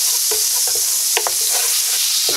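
Salted butter sizzles as it melts in an electric frying pan at medium heat, with a constant close hiss broken by several soft scraping strokes of stirring.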